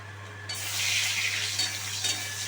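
Whole dry red chillies, bay leaves and whole garam masala sizzle in hot oil. The steady frying hiss rises sharply about half a second in and holds close and continuous over a low background hum.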